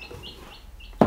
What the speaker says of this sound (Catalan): Això és una gallina.